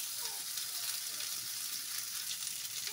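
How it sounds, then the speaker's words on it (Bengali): Mint leaves frying in a pan while being stirred: a steady, bright sizzle throughout, close and fairly quiet, with faint scraping from the stirring and no speech. "পাতাগুলো দেওয়ার পর ভালোভাবে আরেকটু নেড়ে চেড়ে দিতে হবে"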